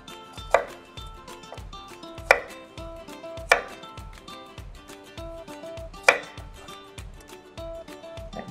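Knife slicing through cucumber on a board for a spicy-sour fruit salad: a handful of sharp chopping taps spaced irregularly, close and clear with no talking.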